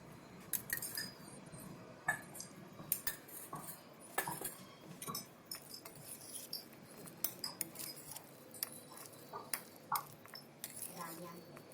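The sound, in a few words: spoon mixing paneer masala ingredients in a dish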